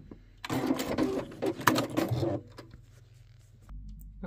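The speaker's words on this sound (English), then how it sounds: "Turn, and then backstitch at this end as well." A sewing machine backstitches the seam of a ruffle drawstring bag in a quick burst of rapid needle stitching lasting about two seconds, then stops, leaving a faint hum and a soft thump.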